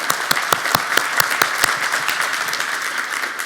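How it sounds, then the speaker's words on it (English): Audience applause closes a conference talk on Kubernetes networking, sharp individual claps over a dense patter of clapping that gradually thins out. "just want to give the guys a big round of applause."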